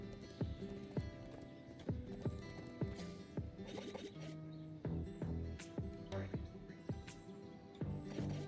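Steady clip-clop of horse hooves with a soft neigh, over a light musical background, no talking, in the video game Nobody Saves The World.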